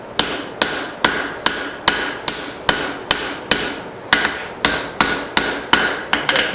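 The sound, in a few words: hammer forging hot steel taper for a cross peen hammer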